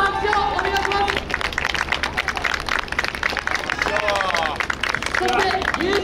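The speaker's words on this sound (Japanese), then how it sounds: "まずは4チームの選手の皆さんに今一度大きな拍手をお願いします。" A crowd applauds the four teams at a Japanese little pelon festival final, sustained clapping and cheering heard under a loud announcer's voice over a PA.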